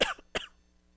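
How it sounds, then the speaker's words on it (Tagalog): Two quick, close coughs in rapid succession from a person recording a business tax lecture, sharp and brief, followed by quiet. "Sama ko na sa pag-record ko yung ubo ko."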